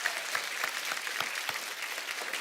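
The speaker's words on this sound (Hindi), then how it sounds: "एक बार जोरदार तालियां हमारी आर्मी के लिए।" Studio audience at an Indian comedy show claps steadily in a dense, continuous round of applause, with sharp individual hand claps standing out across the whole stretch and no voices over it.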